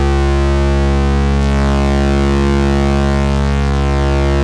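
Soundpaint Analog Film Bass sample sustaining one continuous loud low tone, with a slow sweeping modulation gradually shifting its upper harmonics, alone and unbroken.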